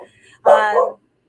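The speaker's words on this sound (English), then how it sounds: "that's my dog barking at cats outside." A dog indoors gives a single short, loud bark at cats outside at night, close by. A faint voice can be heard just before it.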